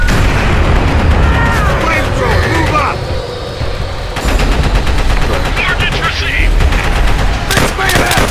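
Rapid machine gun bursts crack loudly in the Call of Duty: World at War campaign, repeated volleys with battle noise and shouting soldiers in between.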